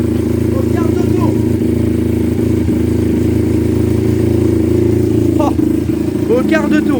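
A cold motocross bike engine running steadily with the choke on just after starting, a loud continuous mid-pitched drone throughout with a few clanks and faint voices over it.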